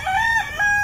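A rooster crows close by in a loud, brief, tonal call with two strained rising segments, while other chickens are kept in pens nearby.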